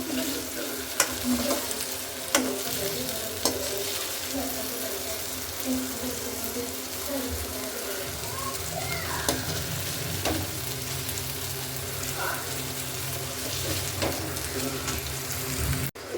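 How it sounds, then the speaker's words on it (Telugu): Okra frying in oil in a pan, giving a continuous soft sizzle with occasional stirring clicks and taps throughout, fairly quiet and close. "చూడండి వేగుతున్నాయండి"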